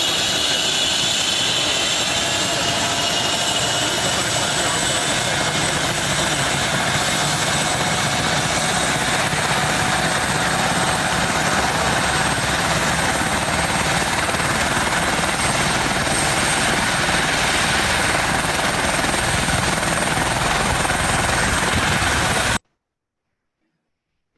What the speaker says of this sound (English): So this was the helicopter that took us to the northeast point.